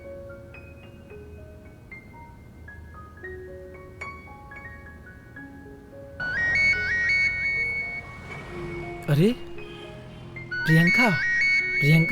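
A mobile phone ringtone plays a melodic electronic tune, first softly and then louder and layered, under someone speaking.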